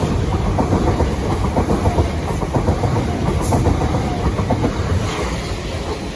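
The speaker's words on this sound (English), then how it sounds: "Next train to pass by will be a Southern 377 bound for London Victoria." A Southern class 377 electric train passes close by near Battersea Park and Clapham Junction, a loud rolling roar with rapid rhythmic clickety-clack of wheels over rail joints, easing slightly at the end.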